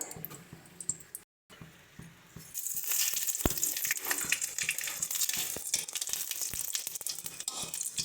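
Bay leaves and panch phoron hit hot oil: quiet clicks and small knocks come first, then after a brief silence a loud, dense sizzle bursts up and carries on steadily with light rattles.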